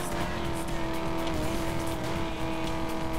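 A steady, droning car engine in the video game Need for Speed: Most Wanted (2012) roars continuously at racing speed, loud and close, with a constant tonal hum and no pauses.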